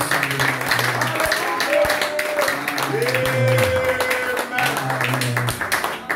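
A church congregation applauds during a Sunday service, dense clapping running throughout with sustained tones and voices rising through it.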